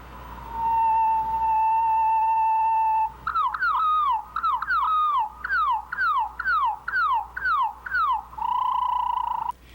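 Sparrow song in its home regional dialect, slowed to quarter speed: a long steady whistled tone, then a rapid series of descending slurred notes, ending on another sustained tone, loud and clear with no voices.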